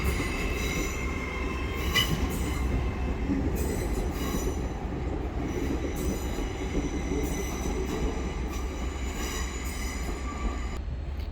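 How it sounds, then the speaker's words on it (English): At Doncaster, LNER Class 800 unit 800 210 on a Harrogate service rolls past, wheels squealing and screeching repeatedly over a continuous low rumble of rail noise, fairly near. "this one is 800 210, and that is with a service there to Harrogate"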